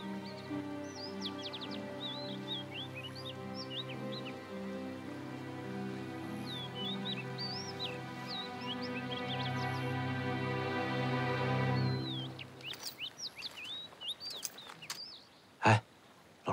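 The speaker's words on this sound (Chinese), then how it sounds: "你听这鸟叫" Released signal birds chirp in clusters of quick tweets, moderately faint, above a steady musical score. The chirping fades midway and returns near the end alongside a sharp thump.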